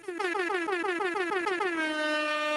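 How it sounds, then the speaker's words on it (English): Loud air horn sound effect blasts in a rapid repeating sequence, then settles into one long held blare, with no talking. "So how about we get some air horns here"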